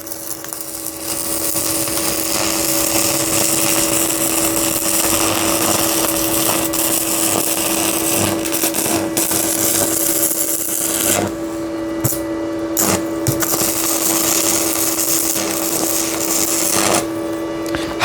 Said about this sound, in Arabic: ده سلك 3 مللي تلحم بيه براحتك زي ما انتوا شايفين